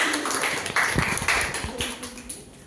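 A classroom of students claps for a classmate during a micro-teaching lesson, producing a brief, scattered patter of many hands at moderate loudness.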